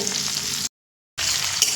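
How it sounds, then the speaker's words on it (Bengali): Chopped onion fries in hot oil in a pan for a lightly spiced rohu fish and pointed gourd curry, giving a steady, close, dense sizzle that cuts out completely for about half a second before resuming. "পেঁয়াজটা একটু ভাজা হতে দেব"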